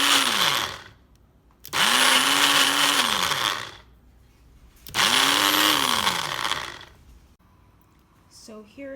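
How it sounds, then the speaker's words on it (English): A Ninja blender blitzes pandan-infused vegan butter in three loud, roaring bursts, each spinning up and winding down, with short quiet gaps between them. "I then blitzed it briefly in my Ninja blender"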